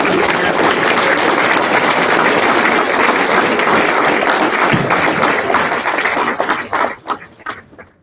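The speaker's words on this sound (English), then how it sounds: "Clap, ladies and gentlemen." Banquet audience breaks into a long, loud round of applause for the parents, dense clapping filling most of the clip before tapering off into scattered claps at the end.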